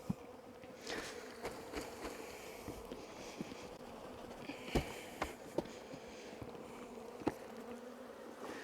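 Honeybees buzz steadily close by in a low, droning hum, punctuated by several sharp knocks and clatters as bees are dumped from a nuc box into a hive.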